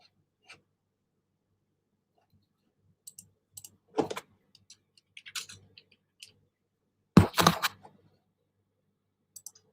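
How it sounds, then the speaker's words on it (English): Sparse, faint clicks from a keyboard or mouse during a basketball video game session come in scattered taps and short bursts, with two louder clusters against a quiet background. "My fault if y'all could hear all the clicking."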